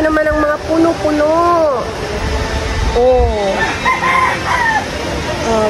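Roosters crow repeatedly among clucking chickens in rural Tayabas, Quezon Province, with long rising-and-falling calls close by over a steady outdoor background, while people talk nearby.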